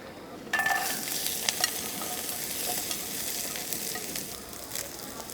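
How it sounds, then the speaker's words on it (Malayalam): Steady sizzling of shallots and chilies frying in hot coconut oil in a pan, with occasional stirring scrapes against the pan, continuous and fairly close. "ഇതെല്ലാം കൂടി ഈ പാനിലിട്ട് വറക്കണം അപ്പോൾ കുറച്ച് വെളിച്ചെണ്ണ ഒഴിക്കട്ടെ"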